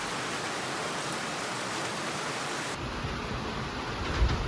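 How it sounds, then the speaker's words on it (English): Rain falls outdoors on a farm as a steady, even hiss of broadband noise with no voices, holding constant and thickening slightly near the end. "I can't believe it's raining"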